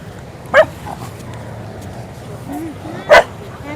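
Dogs on a beach give two short, sharp barks a few seconds apart, moderately close, with quiet ambient background and faint talk.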